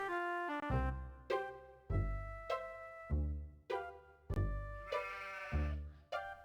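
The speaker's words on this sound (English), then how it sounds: "Except for its occasional hairball cough, it's hard to tell if the sheep is alive or not." Sheep in the horror adventure game Harvester bleating repeatedly, about ten loud, close, wavering bleats in a steady rhythm with brief gaps, a few sounding rougher like a hairball cough.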